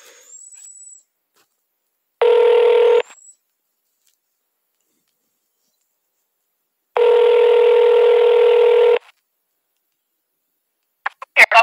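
A telephone call rings out with two long, steady ringback tones separated by silence, loud and clear on the line, followed by brief clicks.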